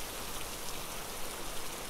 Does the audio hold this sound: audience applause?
no